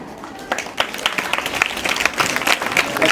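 Audience applause at a Hindi Day celebration, a dense wash of many hands clapping that builds and holds steady, close and fairly loud, with no talk over it.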